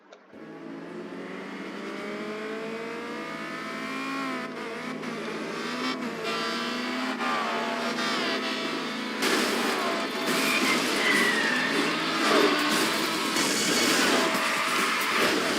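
A racing car in the video game Burnout Revenge drives at high speed, its engine whining and revving continuously with rising pitch, tire noise and crash-like bursts growing louder toward the end, without talk.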